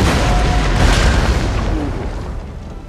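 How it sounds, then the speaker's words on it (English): A howitzer fires in a Napoleonic battle video game: one loud, deep boom whose rumbling tail slowly fades over a few seconds. "The howitzer is moving to try to fire down on them."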